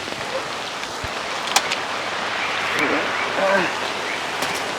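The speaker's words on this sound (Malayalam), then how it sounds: "പക്ഷെ നല്ല സൂപ്പർ മഴയാ" Heavy afternoon rain falls as a constant hiss on the surfaces nearby, with a few brief knocks and faint voices partly buried beneath the downpour.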